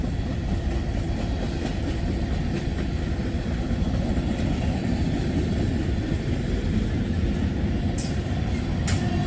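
CSX freight train of tank cars carrying molten sulfur, ethanol and sodium hydroxide rolling past, a steady loud broadband rumble and rattle throughout with a few sharp squeals near the end.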